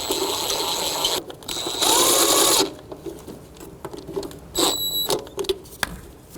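A ratchet snugs down throttle body bolts on a 2006-2012 Toyota RAV4, producing close, rapid clicking bursts with a faint metallic squeal. Three separate runs of ratcheting are broken by quieter handling noises, with no speech.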